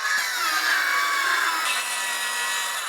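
Power saw cutting through timber pieces for an arch backdrop, a steady continuous whine with a slight pitch shift midway, loud and close with no talk.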